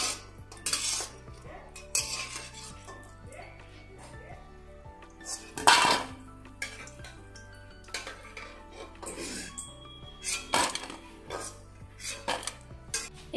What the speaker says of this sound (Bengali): ভেজে নিয়েছি, এবার আমি বাটি করে তুলে নেব।